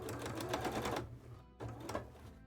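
A sewing machine stitches fabric for a cosplay dress in fast, close mechanical bursts, running about a second, pausing briefly, then running again, with no talking.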